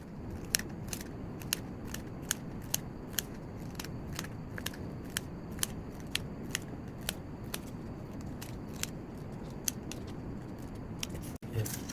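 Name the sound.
scissors cutting paper for a paper roller coaster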